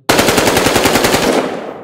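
A single 5.56 caliber rifle shot from the video game Battlefield Hardline, with a loud sharp blast and a rapid rattling tail that blooms and fades over nearly two seconds, heard alone.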